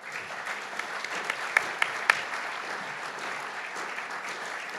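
An audience at a law school classroom dedication claps in a moderate, sustained patter, with a few sharper individual claps standing out near the middle.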